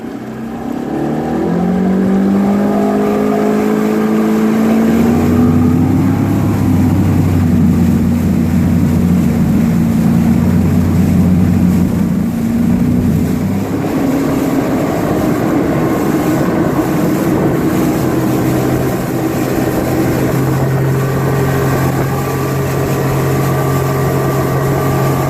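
A boat engine climbs steadily from idle to high speed, its loud continuous drone rising in pitch and holding a strong, steady roar throughout with no voices.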